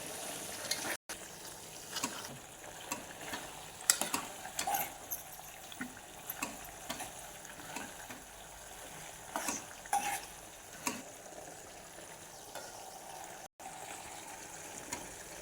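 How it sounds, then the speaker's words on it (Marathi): Homemade ayurvedic hair oil with amla bubbling in a pan as it is stirred, giving a steady soft sizzle and simmer with repeated scrapes and taps of the spoon throughout. "हे दहा मिनटं असंच उकळून द्यायचं"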